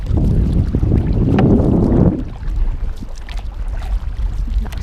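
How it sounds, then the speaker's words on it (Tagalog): Strong wind roars over a small paddled boat at sea, a loud, thick rush for about two seconds that then drops to a lighter, steady wind with faint water sounds. "Lakas pa rin ang hangin."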